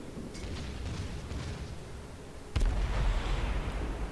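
Ship guns firing in World of Warships: a rumbling naval battle bed, then a sudden loud, heavy blast about two and a half seconds in, with booming rumble continuing afterward.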